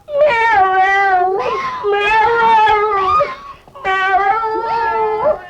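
A cat in a Hindi comedy film scene gives loud, drawn-out wailing meows in three long cries, close up and alone.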